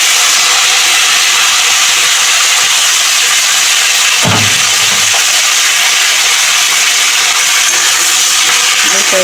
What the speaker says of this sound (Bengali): এখন আমি সবজিগুলোকে দিয়ে দিলাম